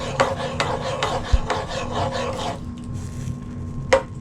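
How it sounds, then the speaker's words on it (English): A spoon scrapes and rubs around the inside of a pot in a rhythmic series of rasping strokes, fading to a faint hum with one last scrape near the end. No one speaks. "I'm gonna take my spoon and start stirring this around."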